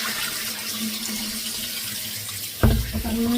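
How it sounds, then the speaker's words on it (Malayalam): Cut sardines being washed under a running tap at a sink, a steady rush of water that surges louder and splashier near the end as the flow hits the fish. "ഇങ്ങനെ വെട്ടി വെട്ടി വെച്ച മീനുകളൊക്കെ ഞാനിവിടെ ഇങ്ങനെ ഇപ്പോൾ ഒരു ആറ് വെള്ളത്തിലായി ഞാൻ കഴുകിയത് കേട്ടോ ഒരു പത്ത് വെള്ളത്തിലേക്ക് ഞാനിവിടെ കഴുകും"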